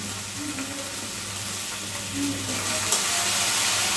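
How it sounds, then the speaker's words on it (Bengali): Jute leaves with salt and softly fried onions cook in a pan, a close, continuous sizzle with some stirring that grows slightly louder toward the end, without talk. "এখন একটু শাকটাকেও ভাজা ভাজা করে নিতে হবে"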